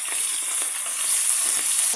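Minced garlic, slit green chilies and dry red chilies fry in a pan for Indo-Chinese veg noodles, giving a loud, close, steady sizzle with light stirring clicks and scrapes.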